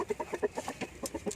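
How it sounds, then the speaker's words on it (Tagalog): A large Rhode Island Red chicken clucks in a quick rhythmic series of short, close clucks, steady and moderately loud with no talking. "Itong bumanat ay yung Rhode Island Red natin."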